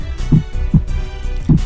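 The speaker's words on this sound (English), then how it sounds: "Is that a heartbeat I'm hearing?" A heartbeat sound effect from the video game Noel the Mortal Fate: three low, thudding beats at an uneven pace, loud and alone.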